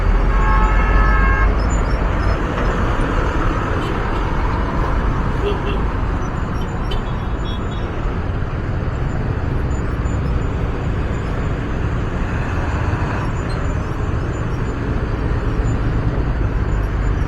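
A truck and other traffic pass along a congested road, a dense continuous roar of engines and tyres with a short horn toot near the start.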